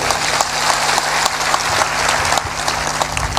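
Steady, dense applause from a large gathered audience at a spiritual discourse fills the whole stretch, loud and continuous with many hands clapping together and no voices on top.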